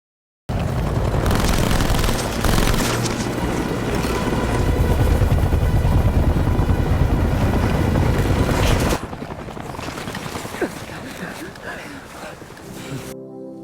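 An enemy helicopter flies overhead in a film scene at sea, a loud, steady rotor drone that drops to a quieter rumble partway through.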